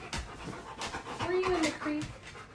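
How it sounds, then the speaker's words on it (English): A wet dog back from a creek pants close by in quick, rhythmic breaths, with a short whimpery whine mixed in and a voice talking softly to it. "my dog comes in and breathes everywhere"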